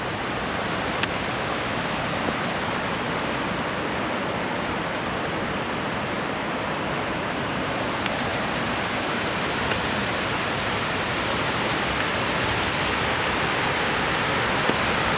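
A waterfall in a slot-canyon gorge pours in a dense, continuous roar that stays loud and even from start to finish, with no voices.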